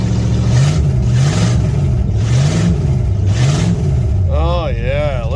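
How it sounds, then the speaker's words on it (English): Close, loud idle of an old Pontiac 317 V8 with a loping, uneven rhythm and gentle swells in revs, and a voice speaking briefly near the end. "Listen to that old Pontiac"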